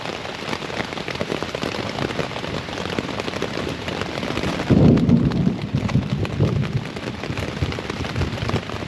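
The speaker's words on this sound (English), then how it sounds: "You guys hear that thunder?" A low roll of thunder swells midway through steady rain falling on surfaces, the rumble lasting a couple of seconds before settling back under the rain on the Appalachian Trail.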